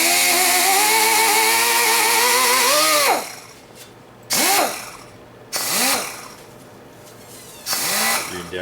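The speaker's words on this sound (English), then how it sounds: "it's a fine brass wire wheel, and kind of does good on the aluminum" A fine brass wire wheel spins against an aluminum wheel, cleaning the area over the spokes on a VW trike: a sustained high whine for about three seconds, then three shorter bursts that rise and fall in pitch as the tool spins up and down.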